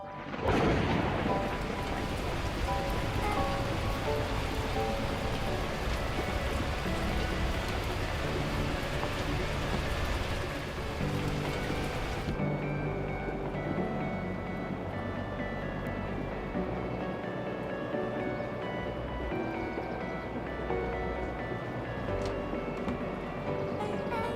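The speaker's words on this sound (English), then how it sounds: "At that moment, the heavens opened up, unleashing torrential rain." Torrential rain pours steadily in the video game Beacon Pines, a dense continuous roar with low thunder rumbling beneath it, loud and unbroken throughout with no voices.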